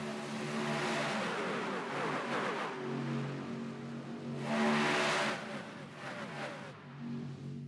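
Racing trucks roar around the track at Daytona in a Truck Series race, a dense pack of engines droning loudly with swelling passes and Doppler sweeps, under a commentator's voice.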